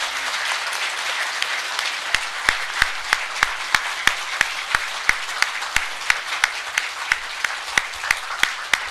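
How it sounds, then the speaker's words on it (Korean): Applause greets a presidential candidate at a campaign launch event: a steady wash of many hands clapping, overlaid by sharp, regular rhythmic claps about three per second that grow more prominent as it continues. "박수로 맞아주시기 바랍니다"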